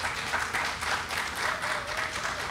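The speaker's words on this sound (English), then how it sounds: "So a round of applause for them" Applause from an audience at a ceremony honoring legislators who secured $6.7 million for a museum ship, a steady even wash of clapping throughout at moderate level.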